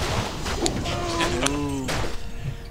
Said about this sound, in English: Somebody had to sit there and record all these cows going moo.